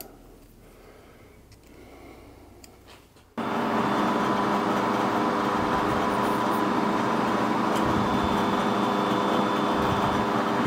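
A machine cutting threads onto a round bar with a die, a steady loud mechanical drone with a faint whine that starts abruptly after a few seconds of quiet workshop and then runs on without a break.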